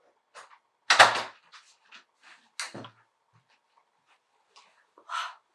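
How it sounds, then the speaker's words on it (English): A bathroom door in an apartment swings shut with a close, sharp thud, followed by a few faint knocks and soft handling sounds, then a short scrape near the end. "Let me close the bathroom door."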